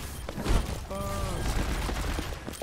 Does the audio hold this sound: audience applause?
no